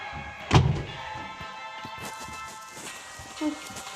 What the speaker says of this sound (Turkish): Kapıyı doğru düzgün kapatalım.